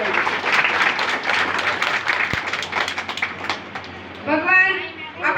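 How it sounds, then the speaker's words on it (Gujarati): Applause from a crowd at a village school entrance festival, welcoming an elderly woman guest: steady dense clapping for several seconds, fading near the end as a voice begins speaking over it. "પહેલા તો આપણે શાબ્દિક સ્વાગતથી ધીરુબાને ખૂબ ખૂબ તાળીઓના ગણગારથી વધાવી દઈએ"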